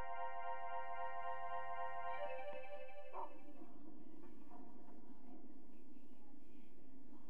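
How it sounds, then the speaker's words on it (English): Dog in the video game Rule of Rose, a short bark or whimper cutting through a quiet, humming game soundscape with tonal background music, fairly faint and followed by low rumbling ambience. "I don't want to follow a slow dog."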